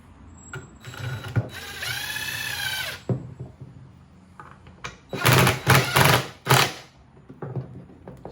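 Bolt being tightened on an upcycled coat rack with glass doorknobs and railroad spikes, giving a steady whirring drive for about a second and a half, then a later burst of rapid, loud ratcheting whirs mixed with a few clunks.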